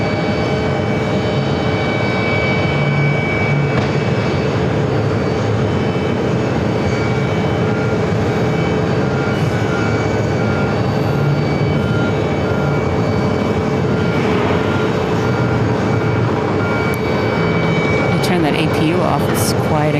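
An aircraft auxiliary power unit runs at JFK, a constant whining hum with steady tones that holds without letup, while people chat over it.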